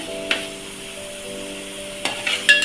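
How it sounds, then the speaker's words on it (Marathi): Masala spices roasting in hot oil in a pan give a soft, steady sizzle under a faint hum, with a few sharp clinks and scrapes of a spoon toward the end. "आपला मसाला चांगला तेलामध्ये भाजला गेलाय"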